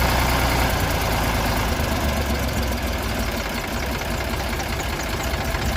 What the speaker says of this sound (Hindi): ये तो बहुत बढ़िया साइलेंट ट्रैक्टर चल रहा है मेरे भाइयों